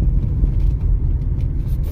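A 2022 Tata Tigor CNG car accelerating in third gear gives a steady, close engine rumble with dense low-end drone and no talking.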